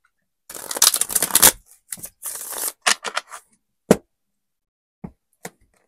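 Tarot cards shuffled by hand, a burst of riffling and flicking followed by scattered lighter card taps and slaps, close and crisp in a quiet room.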